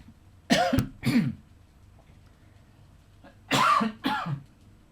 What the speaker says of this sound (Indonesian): kalau saya banyak ngomong pasti keluar batuk-batuknya ya